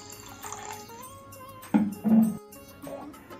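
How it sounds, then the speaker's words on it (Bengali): Gobindobhog rice being washed in water in a home kitchen, with sloshing and swishing of grains, a couple of louder splashy bursts midway, close and fairly quiet, no talk. "এক কাপ গোবিন্দভোগ চাল নিয়েছি এখন ভালো করে ধুয়ে নেব"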